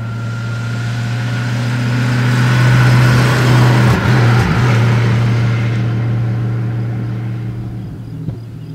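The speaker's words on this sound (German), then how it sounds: "Man merkt, dass die 5-Liter-Maschine viel Kraft hat. Der dreht hier schön hoch." A 1936 Mercedes 500K Spezialroadster with its 5-litre engine revving while driving, a loud steady drone that swells in the middle and then eases, with no talk over it.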